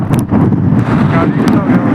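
Wind buffets the microphone on a hilltop at the Sateri Mahadev temple near Kolhapur, a loud, steady rumble that fills the whole moment without a break.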